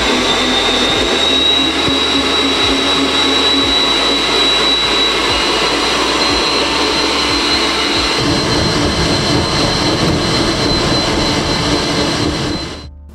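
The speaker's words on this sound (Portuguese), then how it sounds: "Aí a gente coloca pra bater de novo" An electric hand mixer beats chocolate cake batter, a loud, steady whirring drone that runs unbroken for about twelve seconds before cutting off.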